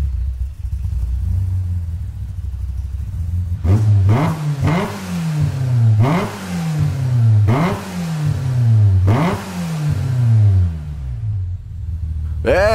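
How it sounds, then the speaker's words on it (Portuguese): Amuse S2000 GT1 Turbo race car in a racing video game revs and accelerates through repeated gear changes, each pull rising then dropping sharply in a rhythmic sequence of about six climbs, loud and close. "quando a turbina desse bicho enche, amigo, a patada é forte"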